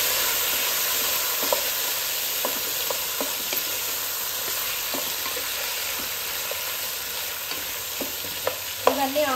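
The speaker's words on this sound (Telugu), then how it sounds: "ఇవన్నీ ఆయిల్లో మగ్గాలండి కూరగాయలన్నీ" Mixed vegetables (bottle gourd, tomato, chilli, onion, carrot, green chilli) sizzle steadily in hot oil for a sambar, with intermittent scraping clinks of a spoon stirring the pan and no talking.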